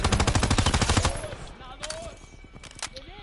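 Rapid automatic gunfire from a weapon in Call of Duty WWII rattles loudly for about a second, followed by scattered single shots and bursts amid game effects.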